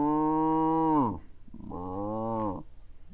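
Two long, loud cow moos from the video game LEGO Batman 3: Beyond Gotham, each a sustained droning call with a falling end, separated by a short pause.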